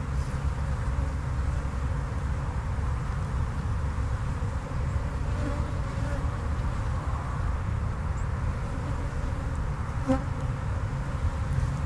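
Dense buzzing of honey bees around an open hive being built up for almond pollination, a steady close swarm drone that stays even throughout with no talk.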